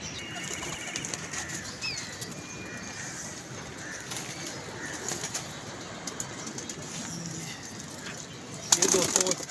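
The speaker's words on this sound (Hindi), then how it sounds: "तो ये कबूतर है" Pigeons coo softly in the background, then wings flap in a short loud burst at the end, with someone talking quietly nearby.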